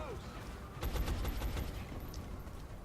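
A short burst of rapid gunfire from the tactical strategy game XCOM: Enemy Unknown rattles out loud and close over a steady background hum, then fades into lingering game ambience.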